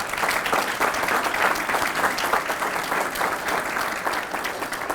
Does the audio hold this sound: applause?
yes